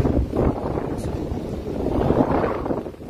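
Strong wind roars and buffets the microphone continuously during a tornado warning in East Texas, a loud, steady rushing with gusty swells throughout and no voices.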